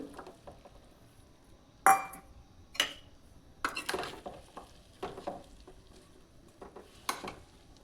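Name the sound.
stirring fresh turmeric into pickle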